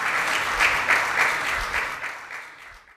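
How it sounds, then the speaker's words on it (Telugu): A church congregation claps loudly in praise, a dense, steady wash of many hands with faint rhythmic accents, fading slightly at the end. "గట్టిగా చప్పట్లు కొట్టి దేవునికి స్తోత్రం చెల్లిద్దాం."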